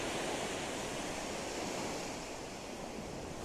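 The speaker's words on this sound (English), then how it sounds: "No, just the waves." Light surf breaking steadily on a sandy East Coast beach at Tyninghame, Scotland, a continuous broad wash of waves with no talk, fairly even in level throughout.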